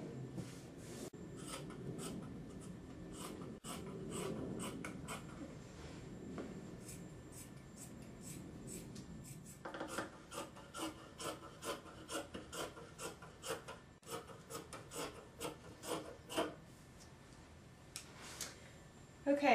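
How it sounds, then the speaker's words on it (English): Fabric being cut around a shirt pattern for a Renaissance style blouse, soft rasping snips that turn into a quick, irregular series of close scissor clicks in the second half, fairly quiet overall. "what we're going to do is just carefully cut around the shirt,"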